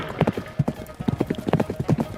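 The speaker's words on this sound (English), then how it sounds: "Ji kicked his horse and cantered towards Yang Ji." Horse hooves clip-clop in a quick cantering rhythm, a steady run of close, distinct thuds as a mounted fighter charges toward an opponent in battle.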